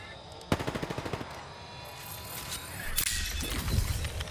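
Automatic gunfire from Apex Legends, a sharp burst of about eight rapid shots followed by more scattered shots and a heavier rumbling volley near the end, loud and close with no talking.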